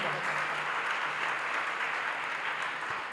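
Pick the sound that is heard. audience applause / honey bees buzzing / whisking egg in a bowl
audience applause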